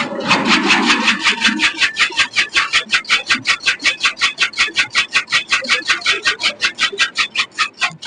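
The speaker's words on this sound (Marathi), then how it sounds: "ह्या मशीनचं थोडं तुम्हाला डेमो म्हणून चालू करून दावतो" An electric fodder chaff cutter with a 3 HP motor and rollers runs at an agricultural exhibition in Latur, making a loud rapid rhythmic rasping chop that repeats steadily at close range after a rougher start.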